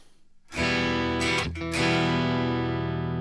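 Distorted electric guitar through a British 4x12 cabinet with Alnico Greenback speakers: one sustained chord rings out, briefly cuts, then is struck again and rings loud and full.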